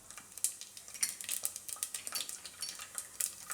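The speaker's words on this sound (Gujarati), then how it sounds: "તો એમાં આપણે પહેલાં રાઈ નાખીશું અને જીરું નાખીશું" Mustard seeds and cumin dropped into hot oil in a pan for a Gujarati carrot and potato khichdi, giving a faint, steady crackle of many tiny sharp pops and clicks with no talking.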